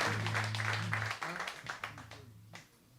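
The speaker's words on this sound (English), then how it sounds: "Give him another round of applause here." Audience applause at a New Orleans jazz concert, a dense wash of clapping over a low sustained instrumental tone and some voices, thinning out toward the end.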